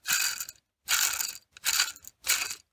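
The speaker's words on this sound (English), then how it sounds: "this pulley is pretty loud" Four rhythmic bursts of harsh, rattling mechanical grinding from a worn serpentine belt pulley on a 2011 Audi A5 engine repeat close up with short silent gaps between them.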